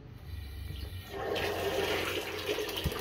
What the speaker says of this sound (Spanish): Hecho ya eso, abrimos el agua.